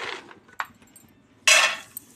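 Peanuts are tipped into a bowl of oil for chutney: a short rattling spill, a brief second patter, then a louder, fuller clattering pour, with a faint clink after.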